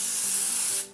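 A facial mist spray bottle gives one steady, close hiss of fine spray lasting nearly a second, then cuts off, with no talking.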